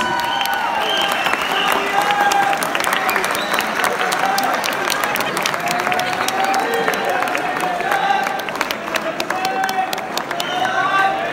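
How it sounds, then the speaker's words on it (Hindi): A live audience claps and cheers continuously at a stage event, a thick, sustained roar of applause with scattered shouts and crowd voices mixed in. "आपकी तालियां रुकनी नहीं चाहिए प्लीज"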